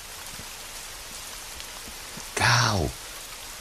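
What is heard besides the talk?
rain falling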